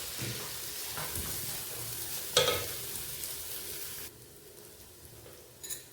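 Eight crushed green chillies sauté in a hot pan for mutton biryani, giving a steady close sizzle with stirring scrapes that quiets noticeably partway through, with a brief clatter near the end and no talking.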